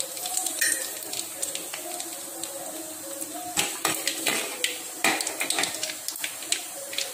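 Mustard seeds, fenugreek, cumin and black pepper splutter in hot oil for a Tamil brinjal curry, giving a steady close sizzle broken by scattered sharp pops and crackles throughout.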